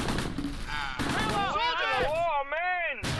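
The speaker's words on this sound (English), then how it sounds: "Artillery's still falling." Artillery bursts crash in the World War II tactics game Close Combat, set around Tourville in Normandy, June 1944: loud, broad booms at the start and end with agitated in-game voices and shouting layered between them.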